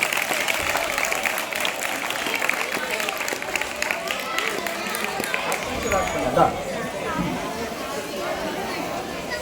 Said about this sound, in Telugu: చప్పట్లు క్లాప్స్ కొట్టాలన్నా.